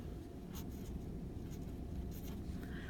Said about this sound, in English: So for log form, first we just write log.